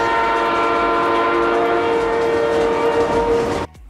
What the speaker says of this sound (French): Il est là, un coup de klaxon!